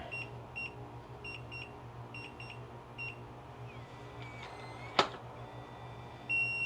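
Keypad on a eufy Smart Lock E30 gives a series of short, thin electronic beeps in quick pairs and triples, followed by a brief mechanical clack and a final longer tone, close and moderately quiet.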